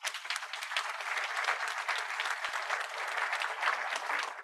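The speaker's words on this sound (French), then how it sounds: "Je crois que toutes les deux méritent vos applaudissements." Sustained audience applause at a Rotary scholarship ceremony, a steady, even wash of many hands clapping at moderate level from start to finish, without voices.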